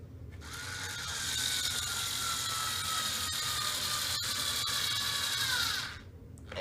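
A power drill drives a screw into an Animal Plastics economy rack, whining steadily for about five seconds at close range and rising slightly in pitch before stopping abruptly.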